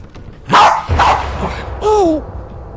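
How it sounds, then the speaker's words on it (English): A dog in a video game gives a few loud barks and yips in quick succession, close and sharp, ending with a whining whimper. "that was my dog."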